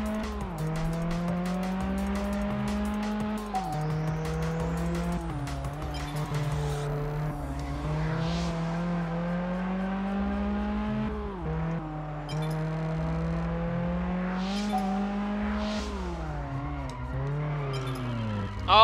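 Car spinning out in the racing game Test Drive Unlimited, with a steady engine drone rising and falling and long, sliding tire squeal and skidding running through, loud and continuous, with no talking.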